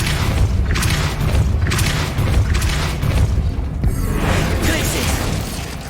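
In the video game Hogwarts Legacy, the Depulso spell lets out loud blasting booms in separate bursts, mixed with mechanical clanks and rattles, with a sharp crack near the middle.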